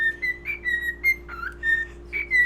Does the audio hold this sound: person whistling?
yes